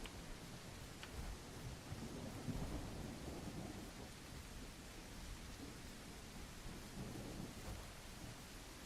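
A thunderstorm with steady, dense rain noise and low rumbles of thunder swelling at intervals, holding fairly constant and moderately quiet throughout with no talk.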